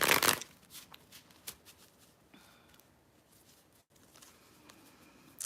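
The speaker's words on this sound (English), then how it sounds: "I'm just gonna start shuffling because it's what I do best" A deck of playing cards is shuffled up close: a loud riffle bursts out at the start, then softer scattered riffling and handling noises follow in a quiet room.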